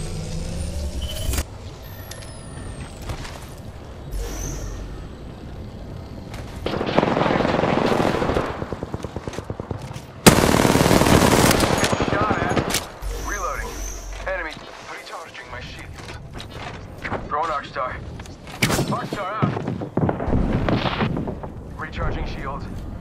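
In an Apex Legends match, a firefight plays out with bursts of gunfire, heavy blasts and explosions loud and close, interspersed with calmer stretches while a voice talks over the action.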